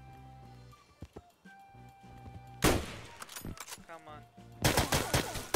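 Gunshots in the Roblox game State of Anarchy. Scattered quiet ambience gives way to two loud clusters of rapid fire, with a person speaking briefly before the shooting.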